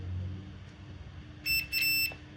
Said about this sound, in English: Could see if we get continuity beeping off here.